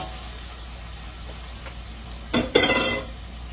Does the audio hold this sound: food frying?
yes